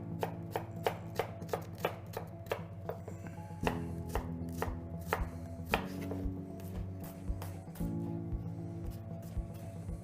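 A knife chopping onion on a board, a quick run of crisp, evenly spaced taps and then slower clustered cuts, close up over a low background hum.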